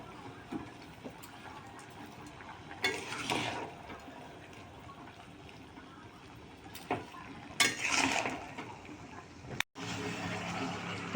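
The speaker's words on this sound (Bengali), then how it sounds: "চলো একটু নেড়ে দিই।" Kalai dal is stirred in a pan for a gota sedhho dish, giving soft scraping and wet sloshing in a few brief bursts over a quiet, low background.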